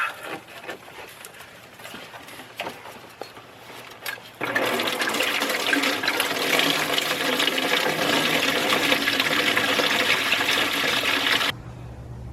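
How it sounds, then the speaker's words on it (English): Coolant gushes loudly and steadily from a pulled lower radiator hose on a 2000–2004 Ford Focus Zetec, a broad splashing rush that starts suddenly after quieter workshop sounds and runs several seconds before cutting off. "I'm gonna pull the lower radiator hose, and it's gonna come gushing out all over the place"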